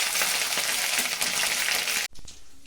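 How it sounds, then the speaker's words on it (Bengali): A paste of ginger, cumin and garam masala fries in hot oil, giving a steady loud hiss and crackle that cuts off abruptly near the end, then briefly resumes more quietly. "আদা জিরে আর গরম মশলাটা বাটার গুঁড়োটা আমি তেলের মধ্যে দিয়ে দিয়েছি"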